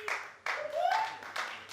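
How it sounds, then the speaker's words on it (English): A handful of scattered claps ring out from a small stand-up comedy crowd at the Red Door Tavern in West Columbia, SC, with a brief voice sounding between the sparse, separated hits. "Clap if you got a beard."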